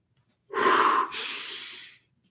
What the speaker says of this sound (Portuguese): Ah, então a respiração é assim.